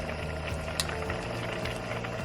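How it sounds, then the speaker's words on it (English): Chicken in chipotle sauce simmering in a pan for tinga de pollo, a steady dense bubbling hiss with small pops and one sharp crackle, close and continuous. "Get the heat back up to simmer here"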